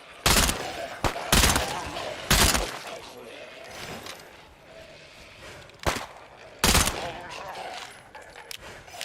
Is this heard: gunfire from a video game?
yes